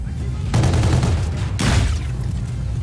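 Assault rifle fire in the shooter game Call of Duty: Infinite Warfare comes in two loud, dense bursts of rapid shots, each lasting about a second, with a brief gap between them.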